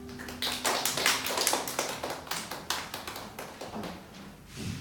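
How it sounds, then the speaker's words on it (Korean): A congregation at a Korean church ministry service applauds, a burst of many hands clapping in dense, irregular rapid taps that gradually thin out over a few seconds. "하나님께 영광의 박수 올려드립니다."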